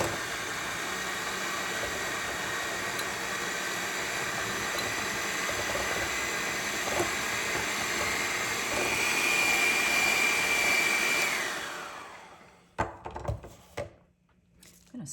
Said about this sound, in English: And now I'm going to beat all that together.